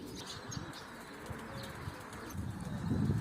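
Tumbler pigeons fly overhead, their flapping wings making a faint, soft fluttering. The sound carries over a low outdoor background and swells a little toward the end.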